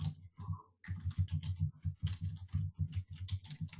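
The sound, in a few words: typing on a keyboard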